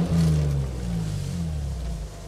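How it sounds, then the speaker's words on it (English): A JZA80 Toyota Supra twin turbo with a six-speed manual and HKS Dragger exhaust gives a deep revving blip that rises and settles into a low, steady idle rumble, close by with no talk. "we have the HKS dragger exhaust, and that's a really nice deep tone to it"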